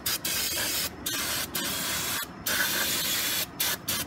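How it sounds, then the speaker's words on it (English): Several hissing bursts from an aerosol can of parts cleaner sprayed on the front brakes of a 2013 Audi A8, some long and some short, close by and loud, separated by brief pauses. "I'm just going to spray these down just a little bit"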